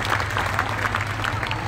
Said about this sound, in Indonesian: Yaudah tepuk tangan sing banter, gak bisa pakai malu-malu.